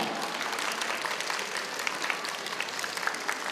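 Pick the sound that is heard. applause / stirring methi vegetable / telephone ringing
applause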